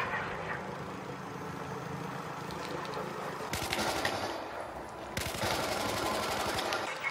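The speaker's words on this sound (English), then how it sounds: "There's gunfire and mayhem going on over here." Gunfire and explosions from a Battlefield 4 multiplayer match on the Operation Wave Breaker map, a steady dense barrage with bursts of rapid automatic fire swelling loudly midway and again near the end.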